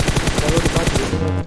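Rapid automatic gunfire in a first-person shooter video game, a close, loud burst of evenly spaced shots lasting over a second before cutting off.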